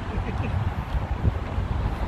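Wind buffets the microphone outdoors on a mild, breezy day, a close, fluctuating rumble with gusty swells and no clear speech.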